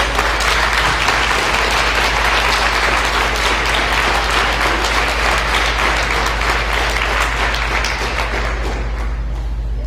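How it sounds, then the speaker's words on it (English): An audience at a speaking contest gives coaches a loud, steady round of applause that fills the hall for about ten seconds, then starts to fade. "let's give them a round of applause"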